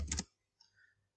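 Two or three quick taps on a computer keyboard, close and quiet, followed by a faint softer click.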